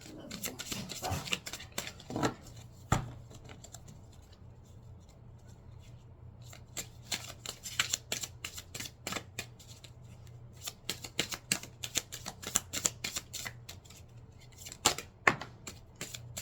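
Seasons of the Witch oracle cards are shuffled in bursts of crisp riffling and flicking, close and fairly quiet, with short pauses between rounds and a faint low hum underneath.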